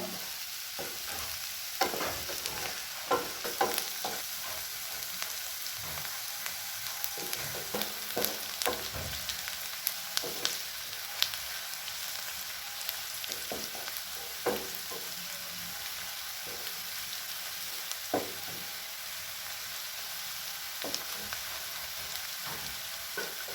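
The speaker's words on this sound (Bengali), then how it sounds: "একদম ব্রাউন করব না পেঁয়াজটা ব্যাস এরকমই ফ্রাই করবো আর বেশি ফ্রাই করবো না" Onions sizzle softly in oil as a utensil stirs them, making sporadic scraping and tapping knocks over a long, steady frying hiss. The sound is fairly quiet and close, with no talking.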